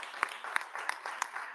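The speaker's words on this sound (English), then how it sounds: "Clap for them." At a Ghana Independence Day gathering at the Sankofa Children's Museum of African Cultures, the audience claps in a crisp, even rhythm of about three sharp beats per second, close and fairly loud over a light background wash.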